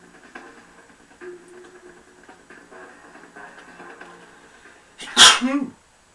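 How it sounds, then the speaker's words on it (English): A person sneezes once, loud and close, after a stretch of quiet room sound with a faint game soundtrack. "Forgive me for sneezing."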